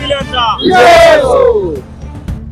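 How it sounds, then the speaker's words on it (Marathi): Supporters shout and cheer at an election victory celebration for an independent candidate in Sangli, Maharashtra. One loud, rising yell stands out over the crowd noise and then fades. "त्यांच्या चाहत्यांनी सर्वत्र एक वेगळ्या प्रकारचा आनंदोत्सव साजरा करताना दिसले"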